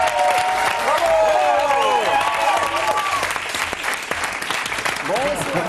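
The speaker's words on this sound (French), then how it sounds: "puisqu'on est en train d'applaudir, on va les prolonger" Dense, steady applause from a television studio audience fills the whole stretch, with whoops or whistles and voices rising through it near and loud.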